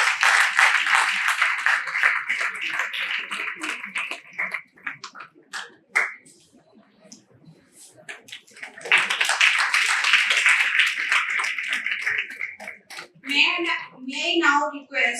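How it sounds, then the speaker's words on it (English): Audience at a university Commerce Day event applauding a guest of honor, two bursts of clapping separated by a quieter gap, followed by a voice speaking near the end. "Please give a big round of applause"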